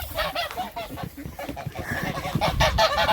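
Ducks at a duck hut on a winter morning call in a steady stream of loud, nasal, honking quacks, several birds overlapping close by with no break.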